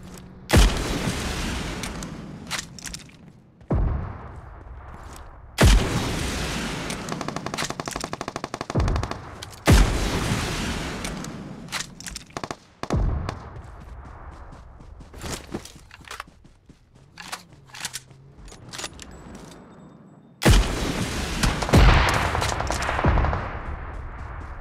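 Loud bursts of gunfire in the video game Payload: long sustained automatic fire broken by abrupt pauses, with heavy booming impacts and some footsteps in between, no talking.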